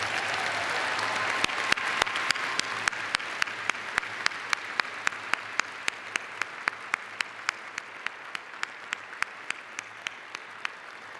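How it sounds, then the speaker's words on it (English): Applause from a graduate school commencement audience starts as a dense, steady patter and thins over about eleven seconds into fewer, sparser claps that ring out one by one. "Graduates, let's give them a round of applause."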